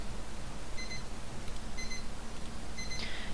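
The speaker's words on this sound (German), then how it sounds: "Und das war mein Wecker." An alarm clock in the adventure game Secret Files: Tunguska beeps in three faint, short bursts about a second apart, with steady background hiss and no talking.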